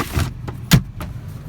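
Glove box of a blue Honda HR-V being opened, a few quick close plastic clicks and a firmer latch clunk within under two seconds, with no talk.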